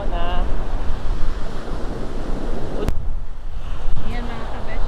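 Rough ocean waves building in strength, heard from a boat out on open water: a loud, constant surging roar with wind buffeting the microphone and a couple of sharp knocks.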